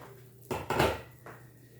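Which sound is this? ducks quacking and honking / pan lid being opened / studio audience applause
pan lid being opened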